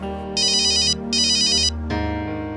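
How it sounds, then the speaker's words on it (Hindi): A phone ringtone rings loudly in two bright electronic bursts over a steady synthetic melody, then shifts to a different tone, with no voices. "अरे यार, ये कितना फोन कर"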